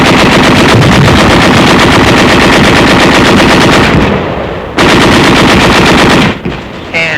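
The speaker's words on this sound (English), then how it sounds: "With BARs and machine guns." Rapid, loud bursts of Browning Automatic Rifle and machine gun fire from 1944 combat footage rattle almost continuously, with brief pauses between long strings of shots.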